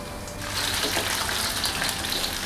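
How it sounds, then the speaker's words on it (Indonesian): Chicken pieces fry in hot oil, a dense, steady hiss of sizzling that rises in strength after a brief quieter start, with no talking. "Kita goreng ayamnya sedikit-sedikit saja ya teman-teman."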